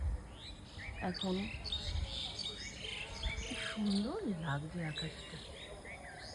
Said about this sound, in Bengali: পাখিদের কিচিরমিচির শব্দ